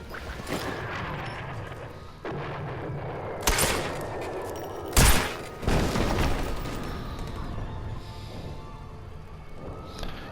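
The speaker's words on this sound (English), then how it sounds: "Now equip your silence pistol. Emerge from cover and shoot the enemy." Gunfire in the Sniper Elite V2 Remastered prologue, where a silenced pistol is used, comes as several sharp shots in a loud game battle with explosions and rumbling background noise.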